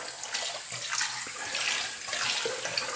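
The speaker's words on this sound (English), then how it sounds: "we got the water on full" Bathroom faucet running on full, a steady close hiss of rushing water splashing into the sink without pause.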